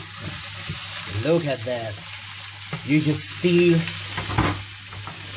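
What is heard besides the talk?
700 gram rib-eye steak searing in a pan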